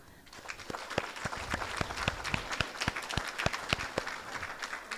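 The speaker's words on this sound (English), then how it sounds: "I'd like to give them all a round of applause." Scattered hand claps ring out from a modest audience at a community meeting honoring the election candidates, a loose and uneven ovation with some voices under it.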